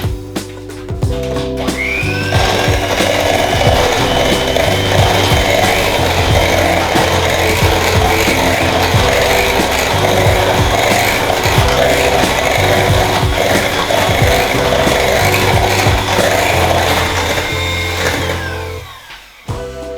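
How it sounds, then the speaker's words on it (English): An electric mixer or whisk steadily beats a lime cheesecake mixture in a kitchen, a continuous whirring drone that starts up after a brief pause and runs unbroken for most of the time before winding down at the end. "And then you whisk again."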